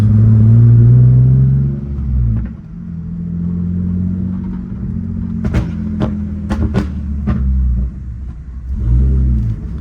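A lowered BMW E46 drift car's engine revs loudly while pulling away on a first drive, a deep rumble rising and falling with several sharp transient pops midway and another surge at the end.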